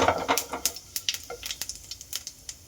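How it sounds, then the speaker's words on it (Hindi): Cumin seeds crackle and sizzle as they drop into hot oil while aloo kachori is being cooked, a quick run of sharp pops and spits that steadily thins out, close and fairly quiet, with no talking. "देखिए मैंने इसमें थोड़ा सा जीरा डाल दिया है"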